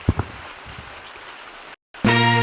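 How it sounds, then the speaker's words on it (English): Rain in the video game Gorilla Tag, a soft continuous patter with a couple of low thumps, then a brief silence before a loud buzzy tone starts. "It's raining in Gorilla Tag."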